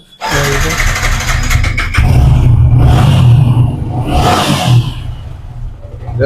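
A motorcycle at a second-hand bike showroom in Kolkata starts and revs, a loud close rumbling idle rising into a couple of throaty revs before settling back.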